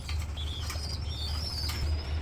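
Pigeons beat their wings in a short flurry of soft, fast flapping, with a faint chirp or two over a low steady hum of the surroundings. The flapping stays fairly close and quiet.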